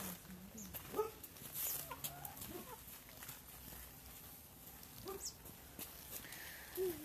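A dog barks a few times, faint and scattered over several seconds, on a rainy walk through a neighbourhood with farm animals such as goats, horses and roosters.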